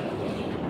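Strong wind blows steadily across Alog Beach in Salcedo, Eastern Samar, a continuous loud roar buffeting the microphone with no other sounds.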